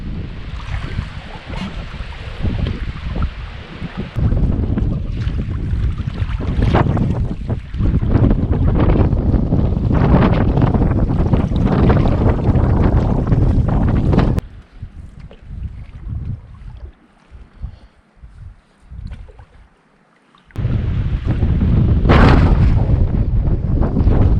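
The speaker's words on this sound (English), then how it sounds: "it's windy as hell over there." Strong, roaring wind on a lake shore buffeting the microphone in loud gusts, with a brief quieter lull before the blustering returns.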